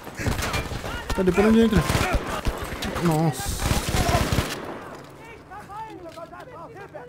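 Rapid bursts of hip-fired gunfire crackle in the Battlefield V campaign, loud and close, overlapping with someone talking before the shooting stops and leaves quieter game sounds.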